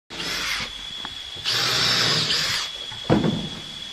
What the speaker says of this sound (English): Pre-drill the holes and then the screw goes in.